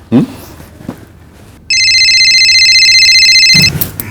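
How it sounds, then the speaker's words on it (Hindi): A phone rings with a bright electronic trilling tone for about two seconds, loud and close, between brief bits of movement and voice. "मेरा फोन बजा ना, मतलब मेरा वाला।"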